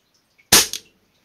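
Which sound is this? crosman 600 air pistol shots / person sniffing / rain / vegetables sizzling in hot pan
crosman 600 air pistol shots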